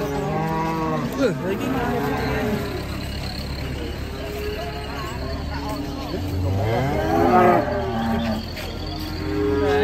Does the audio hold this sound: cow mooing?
yes